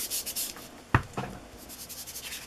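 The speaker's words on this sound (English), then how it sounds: "I'm going to rub a little of the ink around the edges of the paper and down the center." Ink being rubbed around the edges and down the center of a paper page, a brief soft scuffing swipe followed by a second lighter rub, close and quiet, with a faint hiss of background noise around it.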